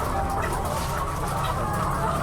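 A large flock of chickens clucks continuously at a poultry farm of about a thousand birds during feeding, a dense, close chorus of overlapping calls with no clear speech.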